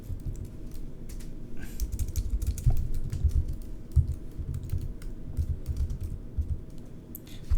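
Typing on a computer keyboard, a steady run of soft clicks and taps of varying pace, fairly close and continuous over a low background hum.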